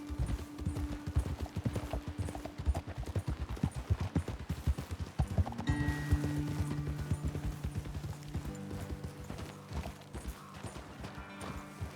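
Horse hooves clip-clop in a steady, brisk rhythm in the video game Red Dead Redemption, close and continuous, with low tones humming in the background.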